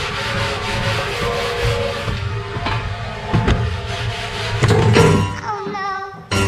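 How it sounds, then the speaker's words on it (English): A very coarse Brillo pad scrubs the inside of a sailboat's fuel tank, giving continuous rough rubbing and scraping strokes with occasional thunks, loud and close, running steadily throughout. "Now I'm switching over to this big, beefy, very coarse Brillo pad."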